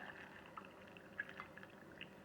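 Salt-water brine is poured over vegetables and caraway seeds in a jar, a quiet, close, continuous trickling with faint gurgles and small splashes.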